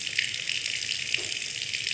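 Water rising around ankles in the game Scarlet Hollow, a steady close rushing and trickling like a running tap, continuous and fairly loud with no voices.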